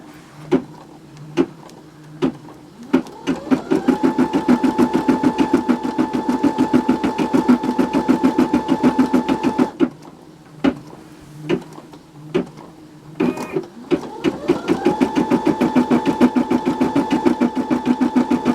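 An SQ9185 sewing and quilting machine stitches an in-the-hoop Christmas ornament in two steady, rapid runs. Each run starts after a few separate clicks, and a brief pause with more clicks separates the two.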